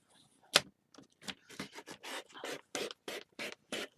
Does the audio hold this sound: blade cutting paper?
yes